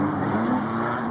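Modified sedans racing at Carrick Speedway, a loud sustained engine roar with a steady revving tone, close and continuous over the short burst.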